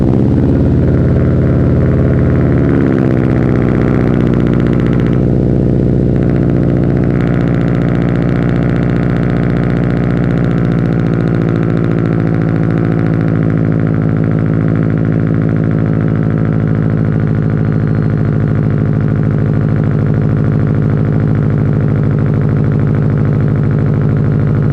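Subaru STi with titanium exhaust cold starts with a brief cranking rise, then settles into a loud, steady, deep idle rumble that continues throughout.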